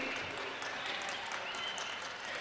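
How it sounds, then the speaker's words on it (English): Steady, dense applause from a crowd at a women's throwball championship in Kuwait, a continuous wash of clapping at moderate distance with no voices standing out. "Now a huge round of applause"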